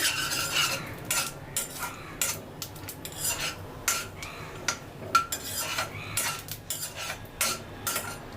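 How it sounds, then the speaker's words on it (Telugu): A spoon stirs grated coconut into semiya payasam in a metal pot, producing a rhythmic run of close scraping clinks and rubs with short pauses between strokes. "ఈ కొబ్బరిని వేసి ఒకసారి కలుపుకోవాలి"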